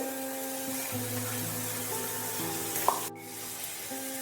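Boiled potatoes with salt are stirred in a frying pan, giving a steady soft sizzle with faint scraping throughout, plus one brief clink near the end.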